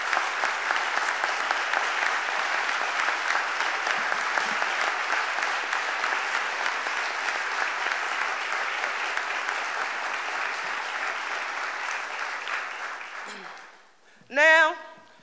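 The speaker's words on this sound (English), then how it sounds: "Give them another round of applause." An audience at the Philadelphia mayor's budget address to City Council applauds in a long, steady wash of clapping that fades out near the end, followed by a brief voice.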